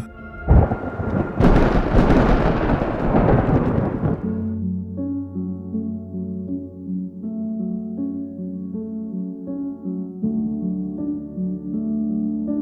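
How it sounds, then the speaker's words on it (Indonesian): Thunder in a storm rolls in as a loud, close, rumbling crash lasting a few seconds, then gives way to a sustained low drone with steady tones that continues to the end. "gemuruh dan badai petir semakin sering terjadi"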